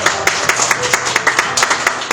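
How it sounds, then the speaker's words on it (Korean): A church congregation clapping for a member's birthday, with steady, fairly loud rhythmic claps close by. "자, 박수로 우리 하면."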